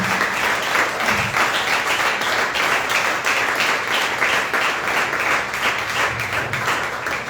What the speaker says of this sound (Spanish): Y un fuerte aplauso al Señor.